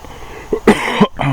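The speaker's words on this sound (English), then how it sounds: "sorry about the cough." A short, close cough in a couple of quick bursts against a steady background hiss.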